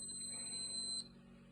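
A door-open alarm on a process control system sounds a steady electronic beeping tone, held high and constant for about a second before cutting off, leaving a low background hum.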